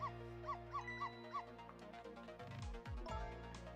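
A small dog barks in the Ghost Trick video game: four short, bright yips in an uneven rhythm over a steady bed of game music.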